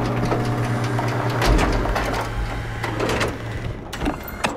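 A pilot seat powering up in the sci-fi game SOMA, a loud mechanical whir and hum with rhythmic machine clatter and a low motor drone that settles, ending in a few sharp clicks.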